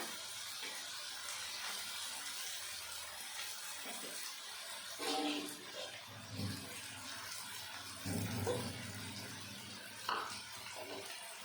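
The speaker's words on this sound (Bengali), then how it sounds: "আমি এবার দিয়ে দেবো অল্প পরিমাণে জল বেশি জল দেবো না" Water is poured into a cooking pan of water lily stalk curry with hilsa fish head, a soft continuous splashing and trickle under kitchen hiss, with a few louder sloshes near the middle.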